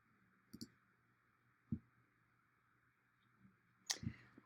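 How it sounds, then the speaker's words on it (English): Computer mouse clicking to download an image, a few sharp, close clicks spaced apart over a quiet background hum. "So I'm clicking on this little arrow here to download."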